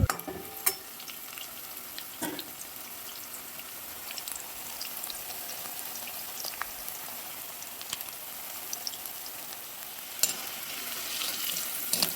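Soybean pakoras fry in hot oil, a soft, continuous crackling sizzle close by with scattered sharp pops, no talking.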